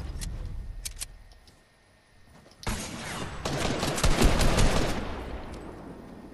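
Gunfire aimed at a wall in the video game Fortnite: a few scattered shots early on, then a sustained rapid burst of shooting that grows louder before tapering off.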